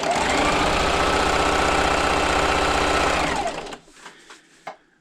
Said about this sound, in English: So I'm just going to backstitch and sew the whole length of this strip.